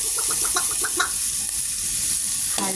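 Chicken and carrots are stirred in a pot for chicken sopas. A quick run of squeaky scraping strokes opens over a bright, steady sizzle that then carries on alone.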